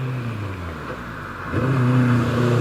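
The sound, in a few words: modified Jaguar E-Type 4.2-litre straight six engine revving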